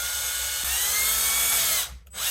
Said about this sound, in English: I'm going to drill all 3 of these straight through, essentially, so I have pilot holes